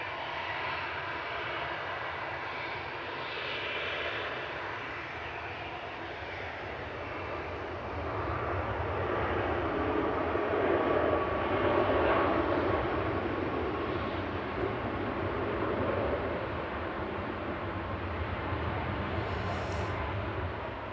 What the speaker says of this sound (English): Ryanair from Cologne's just touching down behind with flight